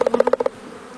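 Honeybees buzz inside a beehive in a short run of pulsing, close buzzes for about half a second, then fade to a faint hum.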